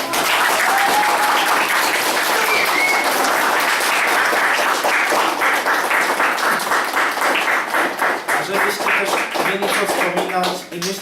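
A crowd at a youth church gathering claps steadily and loudly for several seconds. The applause thins toward the end as a voice begins speaking over it.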